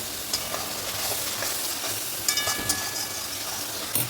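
Masala with salt and a little sugar being sautéed in oil until the oil separates, a steady close sizzle broken by several sharp scraping stirs of a spatula against the pan, with no talk.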